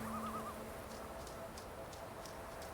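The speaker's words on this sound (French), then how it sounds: "Attends, un oiseau..." A bird calls in The Vanishing of Ethan Carter video game, a short faint warbling call heard once over a quiet outdoor ambience near the beach with soft wind.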